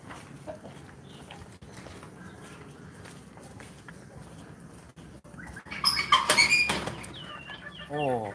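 Quiet rustling and faint scratching of birds on the ground, then a louder burst of chicken clucking and squawks near the end.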